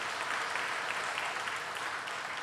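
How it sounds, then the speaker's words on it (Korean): A church congregation claps for a youth praise team at a special evening prayer service, producing a steady, dense wash of applause that holds evenly through the whole stretch with no voices over it. "우리 청년들 찬양단을 위해서 박수 한번 보내주시기"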